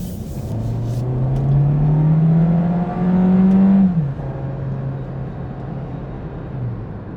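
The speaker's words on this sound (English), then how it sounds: "it seems like sport mode on most vehicles, it just kind of revs it up too much" A 2022 Volkswagen Jetta SE engine revs up in sport mode, a steady rising drone that climbs in pitch, peaks and drops back to a lower hum, heard from inside the car without talk.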